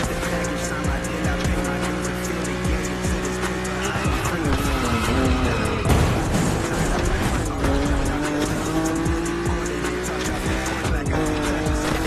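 Race cars roaring through a video game race with engines whining up and down and tires squealing in repeated skids, loud and continuous, with a voice talking over the action.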